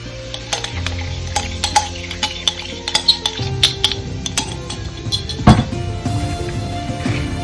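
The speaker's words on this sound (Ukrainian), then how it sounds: "І знову перемішую" Cookie dough with vinegar-quenched baking soda stirred in a bowl, giving a run of close, rhythmic scraping and clinking of utensil on dish, with a sharper knock near the end and no voices.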